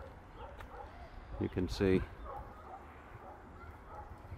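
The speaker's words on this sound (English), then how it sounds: "I hear dogs barking." Dogs bark at a property, a short burst of several yaps and barks heard at moderate distance under quiet outdoor ambience, with a brief spoken remark.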